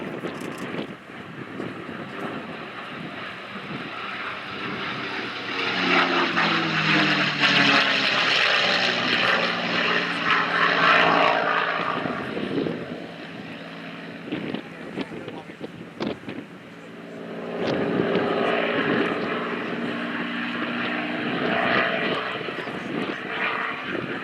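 P-51 Mustang and Corsair propeller warbirds fly past at the Duxford airshow. Loud piston-engine drones rise and fall as the aircraft pass, with a lull before a second pass swells up, and an announcer's voice intermittently talks over them.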